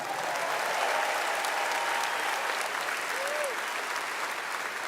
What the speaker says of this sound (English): I want you to give them a round of applause, please.